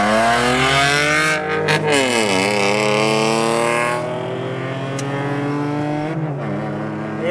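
A Suzuki Cultus and an Alto Turbo race, an engine howling as it accelerates hard in third gear, pitch climbing steadily with brief shift dips, loud and close with no talk.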